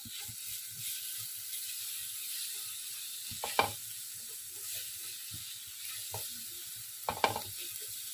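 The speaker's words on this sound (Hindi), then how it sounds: "लहसुन अदरक को भी थोड़ा सा पका लेंगे।" Ginger garlic paste sizzles softly in a pan while cooking paya shorba, a steady faint frying hiss with two brief louder clinks or stirs partway through.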